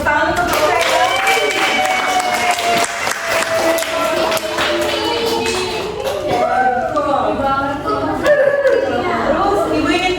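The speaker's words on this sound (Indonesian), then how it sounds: "Tepuk tangan untuk mereka." A classroom of students claps in a quick scattered patter, with voices chattering and calling out over and between the claps the whole time.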